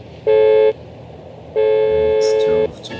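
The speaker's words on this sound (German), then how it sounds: "Jetzt hör auf zu hupen." A car horn honks twice in the game GTA San Andreas, loud and close: a short blast followed by a longer sustained one.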